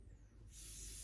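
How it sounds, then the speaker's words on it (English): A short burst of lace wig adhesive spray starts halfway through, a steady close hiss after a quiet moment. "I'm just going to spray that right in front"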